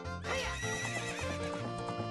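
Epona, the horse in the video game The Legend of Zelda: Ocarina of Time, gives one clear, close whinny with a rising and falling call and a few soft hoof clops beneath it.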